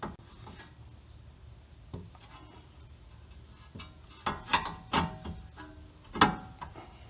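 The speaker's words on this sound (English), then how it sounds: "Now all we need to do is thread on our new outer tie rod." A new outer tie rod end being threaded onto a car's steering linkage by hand, giving soft metallic scraping and rubbing with a few sharper clicks and knocks, clustered toward the end, close up with no talking.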